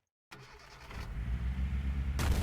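Car engine in the game OUTLAWED cranking to life after a brief silence, then settling into a low rumbling idle that grows steadily louder, alone with no talk.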